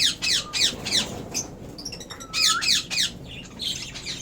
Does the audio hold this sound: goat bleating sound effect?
no